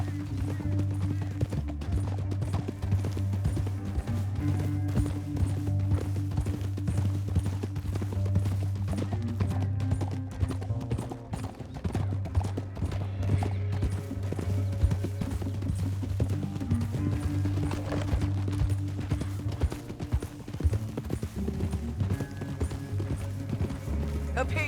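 Horse hooves gallop in Red Dead Redemption 2, a steady run of rhythmic hoofbeats on a canyon trail, carried under a continuous game score with occasional voices.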